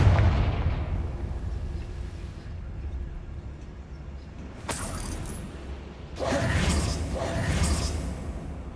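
Confringo blasting spells go off in Hogwarts Legacy as sharp booming bursts with whooshing tails, two louder blasts standing out over a rumbling game background, with no speech.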